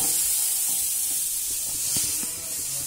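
A dosa fries on a hot tawa, giving a steady close sizzling hiss throughout, with a few faint clicks and light scrapes underneath.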